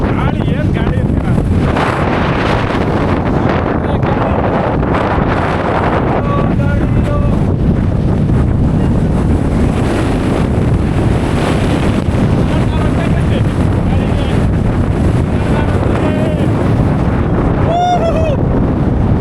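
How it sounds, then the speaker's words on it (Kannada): Strong wind roars across an open monsoon viewpoint shrouded in thick fog at Pushpagiri, a loud, steady buffeting rush that fills the whole stretch, with brief talk and a faint whistle-like sound near the end. "ಗಾಳಿ ಏನು ಗಾಳಿ ಇರ್ತೀರ."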